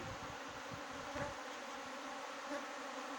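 Honey bees buzz at a feeding station three days after a full moon, a steady, fairly quiet hum that continues without break.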